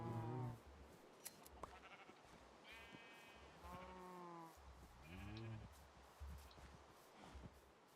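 Sheep in Minecraft bleat several times, with short wavering cries spread across the clip over faint background rustle.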